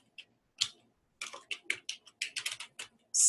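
Close, quiet computer keyboard typing: a few isolated taps, then a quick irregular burst of keystrokes, ending with a sudden louder noise.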